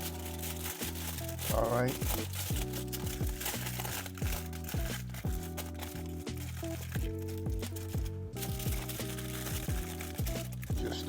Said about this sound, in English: I am going to wrap these bones in aluminum foil, just the bones.